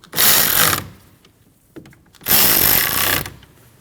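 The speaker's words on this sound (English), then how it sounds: "Tighten your 2 bolts." Two bursts of a power ratchet tightening the two bolts on the downstream O2 sensor of a 2013-2019 Ford Escape 1.5L, each a loud, close buzzing run of about a second with a quiet pause between.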